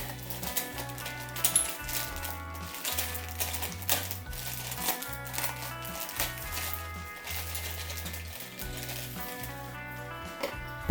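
Plastic bags holding Tamiya model kit parts are opened, giving crinkling and rustling under a steady background of music or noise, close and moderately quiet.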